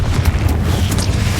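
Bombarda spell blasts in Hogwarts Legacy, a loud rolling rumble of explosion noise with several sharp bursts layered over a continuous low roar.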